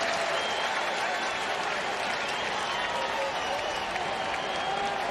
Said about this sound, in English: Crowd comes alive here at Oracle Park.